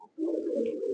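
A racing pigeon coos in a loft, one short low throaty coo, close and clear against a quiet background.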